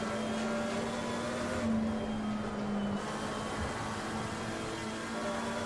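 A McLaren 720S engine drones steadily on track at Laguna Seca, heard from inside the car as an even, moderately quiet hum with a slight swell partway through.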